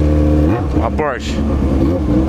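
A Porsche sports car in a convoy of supercars passes close by, its engine loud and revving with a rising sweep, while voices talk over it.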